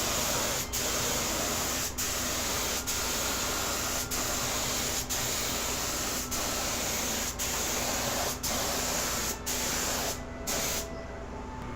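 A light coat of finish sprayed onto MDF in a long continuous hiss, steady and close, broken by faint regular clicks roughly once a second before it cuts off near the end; no voices.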